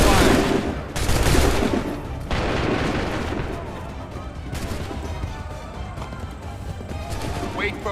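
A massed musket volley erupts in the 2012 game Assassin's Creed III, with loud overlapping gunshot blasts that ring out and echo, followed by continuing scattered battlefield rumble and background voices.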